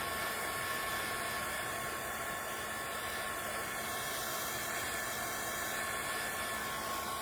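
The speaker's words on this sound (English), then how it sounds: "So I'll let you guys use the heat tool when you're ready." A heat tool blowing steadily to dry Distress ink and oxide on paper in a craft studio, a constant close airy whoosh with a faint whine that holds evenly throughout, with no talking.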